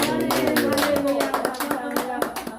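A church congregation gives a short burst of applause: steady, close handclapping from many people for a few seconds, with voices and music-like tones mixed underneath.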